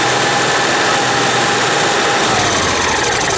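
An RV generator engine on a Keystone Fuzion 405 toy hauler runs at a steady, loud, close idle with a dense mechanical drone and vibration throughout, no voices.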